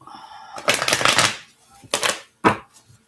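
Tarot cards shuffled by hand, a dense riffling burst lasting most of a second followed by two shorter quick shuffles, close and fairly loud with no talking.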